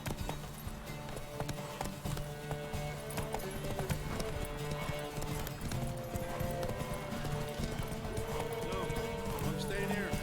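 Roach the horse gallops in The Witcher 3, with steady clip-clop hoofbeats and a whinny set against dense game music and ambience, loud and continuous.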